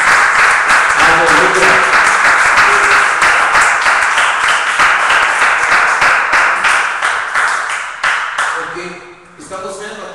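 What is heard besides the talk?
congregation applauding in church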